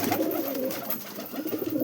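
Pigeons kept in a loft cooing: low, murmuring coos overlapping in a continuous soft burble, close but faint, with no talking.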